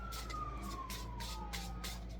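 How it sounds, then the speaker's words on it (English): A wailing emergency siren sweeps slowly downward in pitch, steady and fairly distant, over a constant low hum of background noise. "Sorry about the siren."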